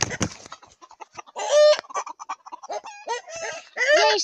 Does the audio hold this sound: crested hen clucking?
yes